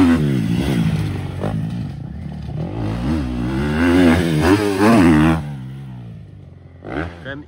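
A supercross motorcycle revs and roars through a triple jump at a supercross event, its engine rising and falling at a distance beneath someone talking over most of it.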